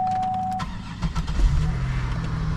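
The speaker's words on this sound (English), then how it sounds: "Let's start her up. Get our key." A car started with a key: a brief electrical whine and click, then the engine cranks and catches, settling into a close, steady idle rumble, no voices.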